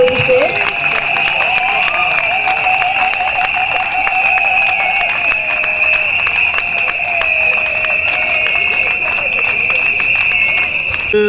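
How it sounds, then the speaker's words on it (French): Crowd at a UDPS political rally cheering and applauding, a loud, continuous roar of voices and clapping with steady horn-like tones running through it and people shouting. "Quand il s'élève, applaudissez, applaudissez."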